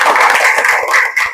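A classroom of students clapping their hands for a classmate, a brisk, dense burst of hand claps close by, lasting only a moment.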